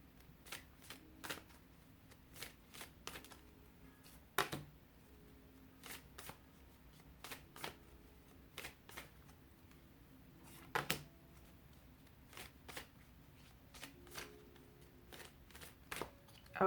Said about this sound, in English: these ones shuffle a little bit better